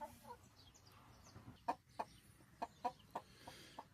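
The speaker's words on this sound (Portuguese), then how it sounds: "Então vamos lá mostrar as frangas e os outros frangos de 4 meses" Young free-range chickens about four months old, some already rooster-sized, clucking in an outdoor enclosure on a farm raising free-range hens; a series of short, moderately loud clucks comes in quick succession over quiet background.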